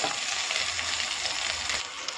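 Onion pieces and torn bay leaves fry in hot oil in a pan, giving a steady, close hiss of sizzling that holds constant throughout with no voices.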